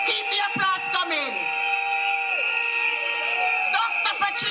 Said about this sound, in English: Dr. Patricia Bartlett, keep the applause coming.